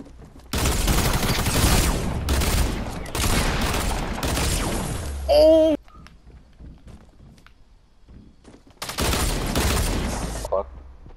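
Rapid SMG fire in Fortnite comes in three long, loud bursts separated by quieter gaps, with a short sharp mechanical sound between the first two volleys.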